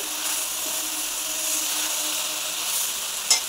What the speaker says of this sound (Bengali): 2 মিনিট বাদে ঢাকা খুলে আমি ভালোভাবে কষিয়ে নিয়েছি।